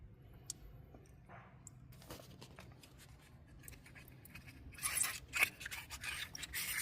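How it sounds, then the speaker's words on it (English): Knife blade scraping a clam's abductor muscle off the inside of its shell, a faint rasping rub that builds to louder, gritty scrapes toward the end. "Try and just scrape that abductor muscle right off the shell"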